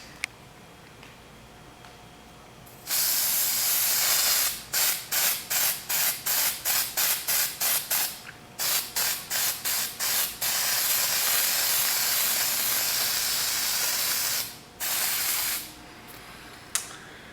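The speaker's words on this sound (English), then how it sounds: "While we wait for the disc brake quiet spray to dry" Aerosol can of disc brake quiet spray hissing loudly as it coats the backs of Dodge Challenger brake pads, a long steady spray followed by a rapid run of short bursts, then more sustained blasts and a few brief squirts.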